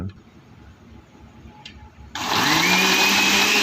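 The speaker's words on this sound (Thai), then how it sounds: "ใส่แล้วแล้วก็ปั่น" A blender purees pumpkin salad dressing with 100 grams of olive oil, starting suddenly after a quiet room and running loud and steady with a high whine until the end.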